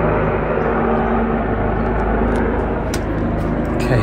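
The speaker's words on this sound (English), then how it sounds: "There's a very loud helicopter." A loud, steady engine roar dominates, with heavy low rumble from a helicopter passing close overhead near Sydney Harbour.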